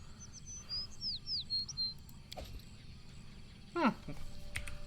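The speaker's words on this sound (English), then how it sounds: "The bird with bright iridescent feathers sings its song and shows no fear as you approach." A bird with bright iridescent feathers singing in the fantasy video game Pathfinder: Kingmaker, a few quick, high chirping notes early on and a sharper call later, fairly faint under game ambience and quiet voice.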